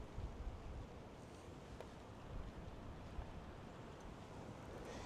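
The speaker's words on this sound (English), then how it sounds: "Oh, here comes the wind again." Strong outdoor wind gusts buffeting the microphone during a high tree-cutting job, a steady loud roar of broadband rumble that swells in waves for the whole stretch with no talk.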